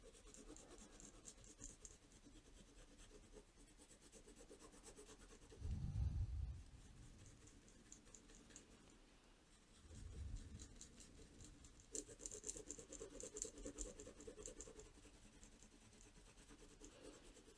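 A biro pen scribbles on paper close up, a steady faint scratchy rubbing with small shifts in intensity and two brief low bumps partway through, with no talking.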